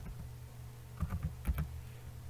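A handful of soft, close keystrokes on a computer keyboard while typing Visual Basic code, a short cluster of clicks over a low steady hum.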